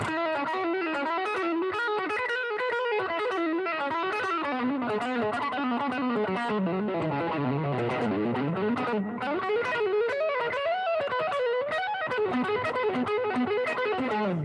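Fast, fluid distorted electric guitar lines with rapid legato notes sliding and trilling continuously, loud and close, with no talking.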